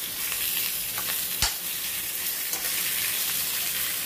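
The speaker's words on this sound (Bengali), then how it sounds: "4-5-6 মিনিট আমি ভেজে নিচ্ছি আমগুলো।" Mango pieces fry in hot oil for a pickle, giving a steady, close sizzle throughout with one sharp clack of a spoon or pan partway through; no one speaks.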